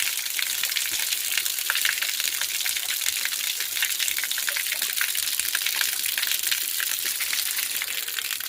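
Water gushes steadily from a stone spring spout in a hillside village, a loud, continuous splashing rush close by with no voices over it.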